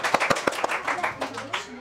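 A few people at a quiz show clap for about two seconds, a short, sparse patter of hand claps that tapers off, with some talking mixed in.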